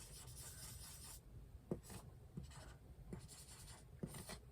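Pen or marker scratching across paper during a music theory lesson, soft rubbing strokes separated by brief pauses with a few light taps, close and quiet with no talking.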